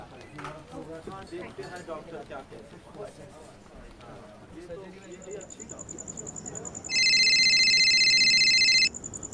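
A phone rings in a sustained bright electronic trill near the end, following a stretch of speech and soft background clinks.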